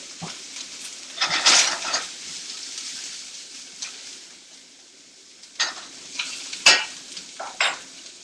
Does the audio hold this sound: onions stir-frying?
yes